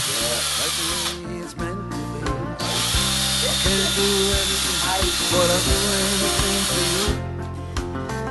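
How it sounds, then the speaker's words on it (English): A power drill whirs steadily into hardwood with a small bit, pausing briefly twice before grinding on, loud and close throughout. "when using hardwood and a small drill bit, always make sure you don't snap it"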